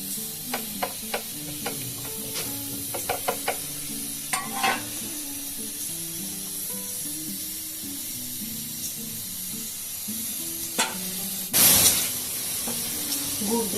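Jaggery melting in a pan while fish cooks for a sweet-sour small-fish curry, with steady frying sizzle, scattered clicks of stirring, and a brief louder hiss burst near the end.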